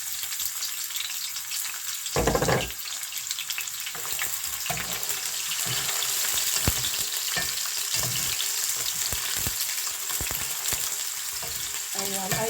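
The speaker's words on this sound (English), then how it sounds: "So now I'll be adding my chopped onions." Chopped onions hit hot oil with a loud hiss, then fry in a steady, bright sizzle with scattered pops and a few utensil knocks up close, for a chicken and fish stew.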